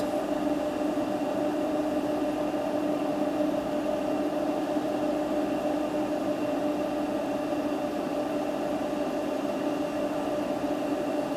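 A 1.5 kW electric kettle heating water on a solar-powered inverter system: a steady, even hum with a broad rushing hiss, constant in level throughout with no breaks or changes.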